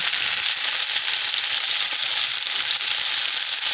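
Coral and chicken-of-the-woods mushrooms fry with salt and spices in a pan, giving a steady, loud, close sizzle with bright hiss and no gaps from start to finish.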